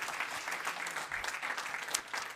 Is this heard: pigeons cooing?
no